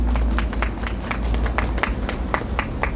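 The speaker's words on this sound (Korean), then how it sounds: "큰 박수 한번 부탁드리겠습니다" Audience at a memorial gives a round of applause: a continuous rattle of hand claps with sharper individual claps scattered through it, moderately loud and close.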